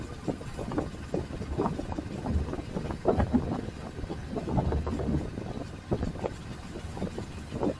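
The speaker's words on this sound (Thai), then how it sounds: "ใช้ความเร็วกับเสียงลมแบบนี้คงไม่รบกวนมากไปนะครับ" Steady rushing wind buffets the microphone throughout, a constant roar with low rumbling underneath, as if heard from a moving vehicle.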